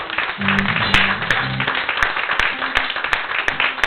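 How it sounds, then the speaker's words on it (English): A church congregation claps in praise, a loose run of hand claps at an uneven rhythm, with a brief low voice or tone under the opening seconds. "give another hand clap of praise"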